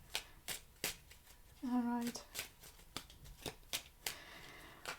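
A deck of cards is shuffled during a card reading, giving repeated soft riffling bursts close to the microphone. A person briefly speaks between them.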